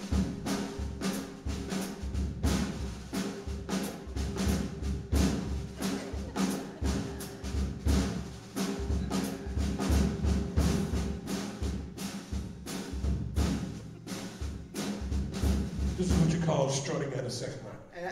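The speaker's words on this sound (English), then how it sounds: "that's pretty much a basic second line beat" A basic second line drum beat of New Orleans brass band street music plays, a steady driving groove of heavy bass drum and snare hits that is dense and continuous, with a brief change in texture near the end.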